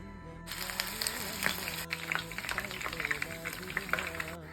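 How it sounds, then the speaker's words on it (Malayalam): Onions tossed into hot oil for chilli chicken masala sizzle and crackle steadily, close and fairly loud, with occasional stirring scrapes and no talking. "ചൂടായ എണ്ണയിലേക്ക് നമ്മൾ സവാള ഇടുന്നുണ്ട്"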